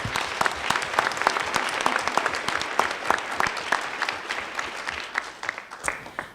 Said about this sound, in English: Can we please give him another round of applause?